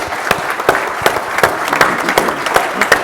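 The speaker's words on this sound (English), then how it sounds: "hand of applause for the 4 panelists" A breakfast gathering's audience claps for four panelists, a loud, close round of applause with distinct individual claps standing out from a steady crowd patter.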